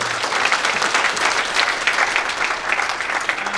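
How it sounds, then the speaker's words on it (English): Conference audience applauding at a closing ceremony, steady dense clapping from a large crowd, loud and sustained without talk. "Please let's applause."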